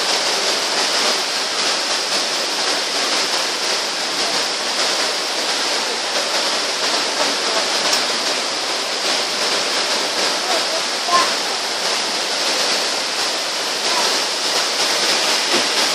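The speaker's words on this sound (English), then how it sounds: "we're coming into our scenic waterfall section. Get a little mist, a little breeze from this first one" Indoor scenic waterfall inside the Opryland Hotel in Nashville, Tennessee, a steady, loud broadband rush of falling water that holds constant throughout without pause.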